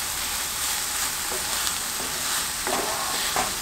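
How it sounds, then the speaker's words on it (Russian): Onions cooked down with sugar in a frying pan, caramelizing as they are stirred: a steady soft sizzle with a few scraping stir strokes near the end, no voices. "Закарамелизовали лучок"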